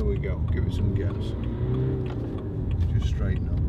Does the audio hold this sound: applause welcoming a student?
no